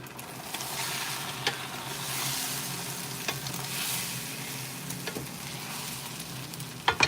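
Eggs cooking in oil in a pan over lowered heat give a soft, continuous sizzle with occasional light taps of stirring, fairly faint and steady throughout.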